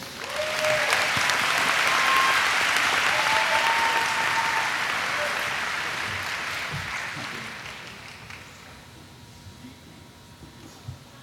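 Sustained applause from a graduation commencement audience for elementary and early childhood education graduates, loud and dense at first, then gradually thinning and fading over about eleven seconds, with a few whoops rising above the clapping.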